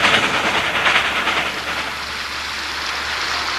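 A steam passenger train called the Daylight runs along the shore of Odell Lake, giving a steady loud broadband hiss and rumble throughout with faint rhythmic rail clatter underneath.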